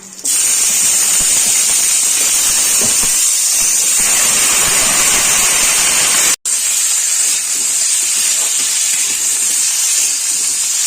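Potatoes hit hot oil already seasoned with a tempering of slit green chillies for a winter cabbage dish, setting off a loud, steady hiss of sizzling that holds for the whole stretch with a momentary break near the end.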